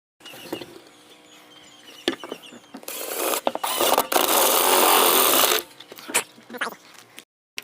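A power drill grinds loudly through slate in short bursts, then one long sustained run, with mechanical rattling between pushes; close by, no talking.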